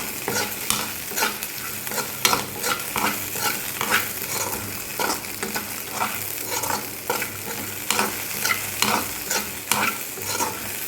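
Turkey berries sautéing in a pan with tamarind stirred in, a steady sizzle under repeated scraping and stirring strokes of a spoon, close and continuous with no talking.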